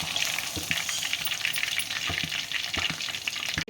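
Chicken 65 pieces sizzle steadily in hot oil, a dense continuous frying crackle with a few soft stirring knocks, close and alone with no talk.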